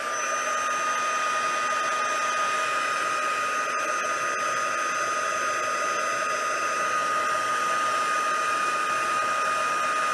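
A hair dryer blows steadily on watercolor paper, giving a constant, even whir that fills the room without pause and with no voices.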